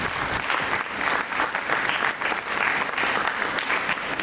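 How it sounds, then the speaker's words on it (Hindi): A theatre audience at a Hindi stage play gives loud, continuous applause in welcome of a performer, dense clapping that holds steady throughout with no break. "जोरदार तालियों से इनका स्वागत करें"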